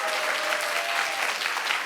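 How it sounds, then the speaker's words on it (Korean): Loud, dense applause from a large audience, continuous for the whole stretch with a faint voice underneath. "크게 박수로 축복합시다."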